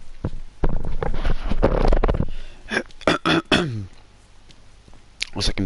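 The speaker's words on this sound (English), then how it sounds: "looks like I'm clearing my throat." A few rough, guttural throat-clearing sounds, close and fairly loud, in short bursts with quiet gaps between them.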